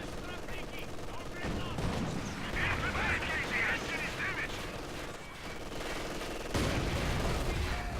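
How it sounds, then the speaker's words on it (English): Soviet mortar fire in the strategy game Company of Heroes 2 during a 1v1 match, dull booms and crackling gunfire layered in a dense, continuous battle din, with a commentator talking over it. "Oh, that's a Soviet mortar."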